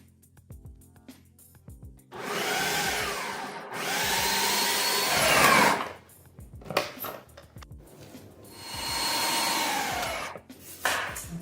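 A food processor chops potatoes in three loud whirring bursts of a couple of seconds each, separated by short pauses with clunks and rattles of the machine.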